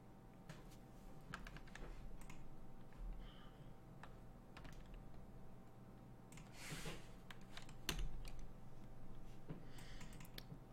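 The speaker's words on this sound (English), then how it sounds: "Forgot to get my new keyboard. I hate this keyboard so much." Typing on a disliked, worn computer keyboard: a steady stream of quiet clicking keystrokes with occasional louder taps, fairly close and alone without speech.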